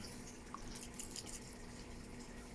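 Water splashes and trickles as a small aquarium water-testing container is rinsed, a soft, steady wet sound close by with no voices.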